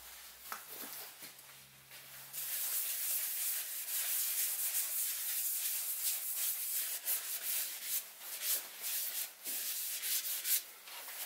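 Food-safe finish is rubbed onto a turned wooden salt cellar, producing a steady, close, scratchy friction sound that starts softly and then holds at a constant level.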